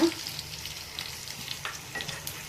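Fish coated in masala fries in oil while being stirred, a close crackling sizzle with scattered spatula scrapes and a soft clunk at the start.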